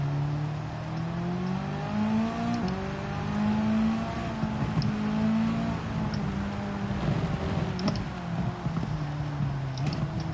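Race car engine in the Gran Turismo 7 video game, a steady droning tone that rises and falls in pitch with gear changes, moderately loud and continuous with no speech.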